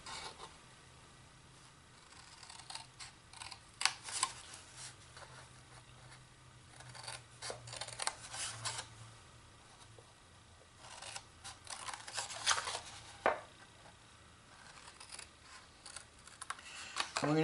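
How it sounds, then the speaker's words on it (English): Scissors cut along the score lines of a paper gift box in a series of short, crisp snips and paper rustles, scattered irregularly between quiet pauses. "We're going to cut up each of these lines to the first horizontal score line."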